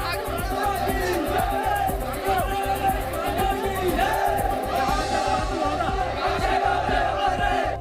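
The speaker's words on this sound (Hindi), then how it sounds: "लोगों की भीड़ गावटे अक्षय अमर रहे और भारत माता की जय के नारे लगाती सुनाई पड़ी" A dense crowd at a martyred soldier's funeral procession in Pimpalgaon Sarai, Maharashtra, chants patriotic slogans in a steady rhythmic cadence, loud and close, with shouting voices layered over continuous crowd noise throughout.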